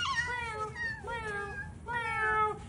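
A voice imitates a cat, giving three drawn-out, wavering meows in a row, fairly close over a quiet room.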